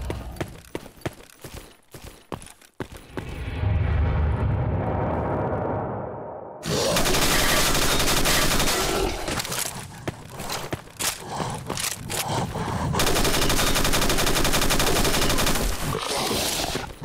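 Rapid automatic gunfire in the shooter game Stalker Narodnaya Solyanka comes in loud, dense bursts, with a short pause and then sustained firing near the listener.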